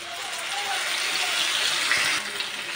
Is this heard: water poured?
yes